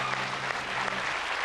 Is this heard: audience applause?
yes